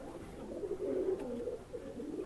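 Teddy pigeons coo softly in a loft, a low rolling series of burbling calls repeating steadily, quiet and fairly close with no talking.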